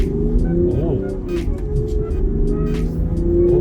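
Land Rover Defender with about 250 horsepower and air suspension accelerating on city roads, heard from inside the cabin as a steady engine drone with a rising tone, continuous and moderately loud under faint background noise.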